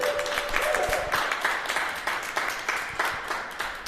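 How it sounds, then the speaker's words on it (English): Audience clapping for a panel guest at an outdoor festival, a moderate run of applause with distinct claps, fairly close and sustained. "How about a round of applause for Shaun Brodie?"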